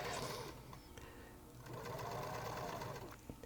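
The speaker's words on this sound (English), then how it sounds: "And I sewed both of these seams." A sewing machine runs continuously, stitching a seam on stretchy fabric from yoga pants. The whir is steady and close, with a short slowdown midway before it speeds up again.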